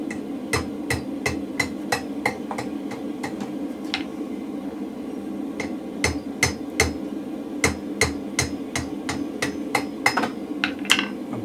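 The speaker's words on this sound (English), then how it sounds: "Then we go over the horn of the anvil" A blacksmith hammers hot steel over the horn of an anvil, sharp ringing strikes coming in quick irregular bursts and short pauses against a steady low hum.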